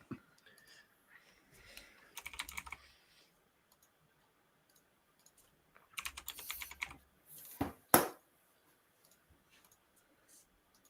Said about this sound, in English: Whilst JC's typing